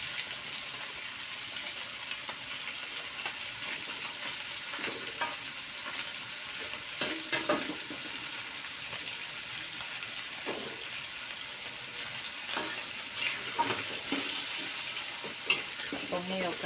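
Shrimp stir-fried in a pan for an oseng urang dish gives a continuous crackling sizzle, broken by repeated scraping stirs of the utensil against the pan, close and steady, with no talking.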